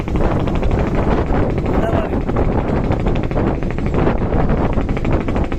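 Strong onshore wind at the seashore roars steadily, buffeting the microphone with a dense, unbroken rush of noise throughout.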